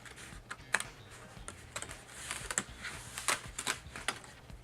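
Small paper pieces popped out of a cardboard craft sheet, a scattered series of faint, quick ticks and snaps with an irregular rhythm, close and quiet over a low hum.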